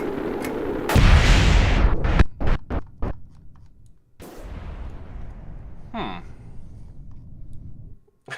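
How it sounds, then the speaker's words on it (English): Nuclear missiles launch and detonate in the space game Kerbal Space Program, giving a roaring whoosh, a rapid string of sharp blasts, then a long rumbling explosion with a rising whistle. The sounds are loud and close, with no talk over them. "activate the nuclear missiles."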